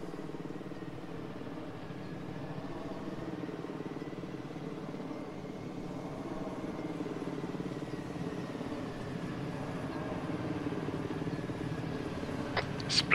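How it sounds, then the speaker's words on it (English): A helicopter flies past in a military shooter game, a steady droning rotor and engine rumble that holds through the whole stretch and swells slightly near the end, with no voices over it. "Helicopter heading towards us, get down."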